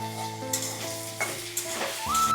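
Taro pieces frying with ginger-garlic paste in a pan for a Bengali taro and bhetki fish curry, sizzling steadily with stirring scrapes and a few clinks, close and alone with no voices.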